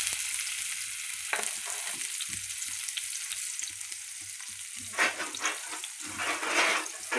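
Tomatoes frying in hot oil in a kadai on a gas stove, a steady close sizzle with brief bursts of stirring and spattering.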